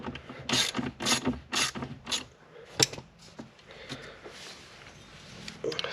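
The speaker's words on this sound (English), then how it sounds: "here's your bolt. It's a 10mm. Now all you have to do is loosen it." Ratchet loosening a 10mm bolt on a Jeep Wrangler JL, a run of quick close clicking strokes that slows into scattered softer clicks.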